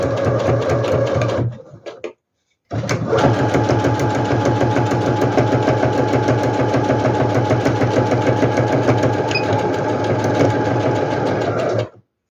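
A sewing machine stitches a geometric-print fabric bag in rapid, even bursts. A short run stops, there is a brief silence, and then a long continuous run follows, close and loud.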